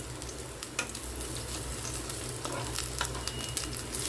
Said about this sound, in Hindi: दोनों साइड से पलट कर अच्छे से सेक लेंगे।